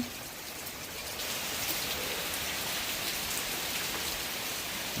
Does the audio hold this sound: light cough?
no